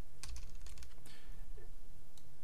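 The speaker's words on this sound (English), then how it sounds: "you can do Control C on your keyboard" Fingers tap a computer keyboard, pressing Control C: a quick run of close, crisp key clicks with a few sharper presses, alone with no speech.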